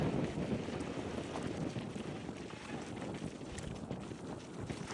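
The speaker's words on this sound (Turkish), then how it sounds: "O kadar rüzgar var ki telefonu tutamıyorum" Strong wind roars and buffets the microphone in a continuous, rumbling rush, with a faint watery wash beneath it.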